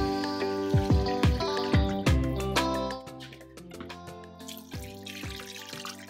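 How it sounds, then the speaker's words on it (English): Water poured into a pot of Caribbean-style oxtail stew, with splashy drips and trickles arriving in bursts before tapering to a lighter dribble, close and clear with no talk. "I like to add water because then I have all my stocks."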